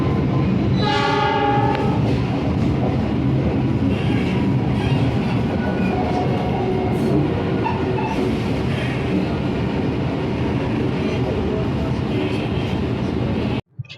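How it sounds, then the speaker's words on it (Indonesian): Loud rumble and rhythmic wheel clatter of the Jayabaya passenger train, with coaches modified at the Manggarai workshop, heard from on board as it enters Bangil station, with a horn blast near the start and a dense continuous roar throughout. "ini akan memasuki stasiun Bangil"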